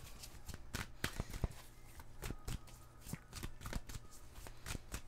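Tarot cards are shuffled close by in quick riffling bursts, crisp papery flicks and slaps repeating in uneven rhythm, quiet and with no talking.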